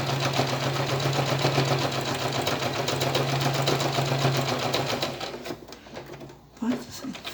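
A sewing machine stitches a seam on a small fabric hat, running steadily and fairly loud for about five seconds before stopping, followed by fainter handling noises.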